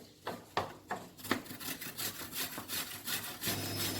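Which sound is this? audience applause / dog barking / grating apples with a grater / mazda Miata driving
grating apples with a grater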